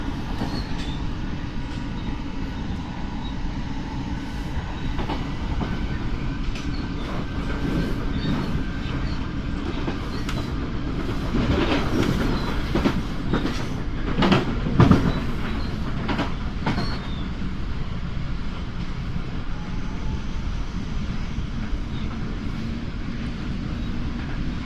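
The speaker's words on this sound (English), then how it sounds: "This is a double header of 455s." Two coupled Class 455 electric trains pass at a London-area railway, a long steady rumble with rising clatter and clicks of wheels over rail joints at the midpoint, fading back to a constant roar.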